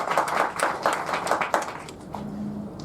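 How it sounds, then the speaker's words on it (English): Audience applause at an organization's 20th anniversary event, a burst of clapping that tapers off after about two seconds, moderately loud and close. "So I would like to start with applauding all of them"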